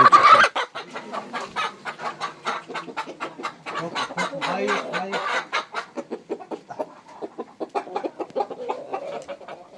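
A chicken clucks in a steady run of quick, close clucks, loud at first then settling into a continuous rhythmic chatter.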